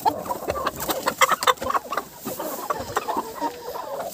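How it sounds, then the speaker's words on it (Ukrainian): Young hen clucking in an evening farmyard with other chickens around, a series of short, fairly close clucks and squawks in an irregular rhythm, with no talk over them. "Ось молоденька курочка."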